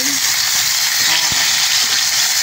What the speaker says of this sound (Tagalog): Nagprito ng bango. Walang katalsik-talsik.